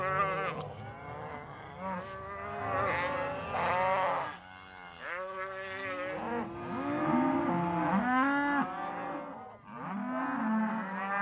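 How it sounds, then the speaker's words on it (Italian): A cattle herd in Powell County, Montana, lowing over and over, many cows overlapping at different pitches in long drawn moos, some near and loud, others farther off, with no talk. "Intanto Earl controlla attentamente la mandria per assicurarsi che tutti i capi siano i loro"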